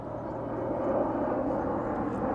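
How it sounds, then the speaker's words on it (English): An airplane passes directly overhead outdoors, a loud continuous broadband engine roar that holds steady and swells slightly near the middle. "There's a plane right over my head."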